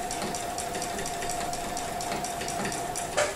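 A sewing machine runs steadily while free motion quilting gentle curves, a close, even mechanical whir with a rapid needle rhythm and a faint hum, with no talking.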